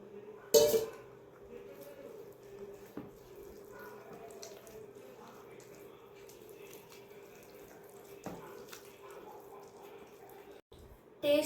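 A spoon stirs cake batter in a steel dabba, with a few sharp metallic clinks scattered over a quiet, steady background hum.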